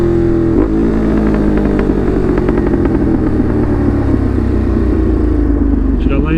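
A Ducati Monster motorcycle engine heard while riding, a loud, continuous close rumble that rises and falls in pitch as the throttle changes, with wind noise and a rider talking over it.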